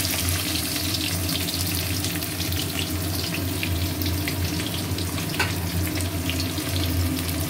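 Onion fries in hot oil in a wok with cumin and garam masala tempering, giving a loud, steady sizzle that runs unbroken throughout.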